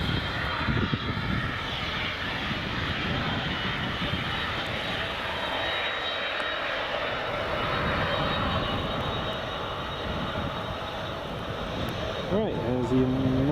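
A United airliner taxiing at Edinburgh Airport gives a steady, loud engine roar that runs through the whole stretch, with a person's voice talking over it at times.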